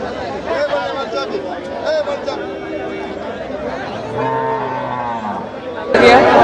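Cattle at a busy livestock market in Melur, with several drawn-out moos, one long low call in the middle, over a constant hubbub of people talking nearby.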